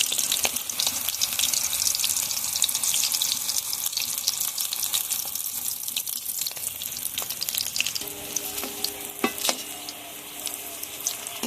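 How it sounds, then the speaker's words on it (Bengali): Pakoras frying in hot mustard oil give a steady, dense sizzle that crackles throughout. Toward the end a few light knocks and clinks cut through the frying. "আমি সরিষার তেল দিয়ে ভাজছি আপনারা চাইলে সাদা তেল দিয়ে ভাজতে পারেন"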